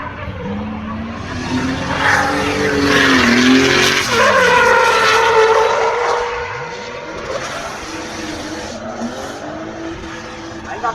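A car drifting on the Nurburgring with a 3-liter engine, loud engine revving and tires skidding and squealing through a slide, the roar swelling mid-pass then easing to a steady drone.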